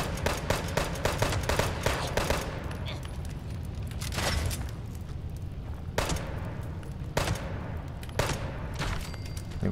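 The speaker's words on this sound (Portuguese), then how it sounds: "Olha quanto tiro tem." Heavy gunfire in Fallout 76, dense bursts of rapid shots and sharp cracks with short gaps between volleys, loud and up front with speech mixed in.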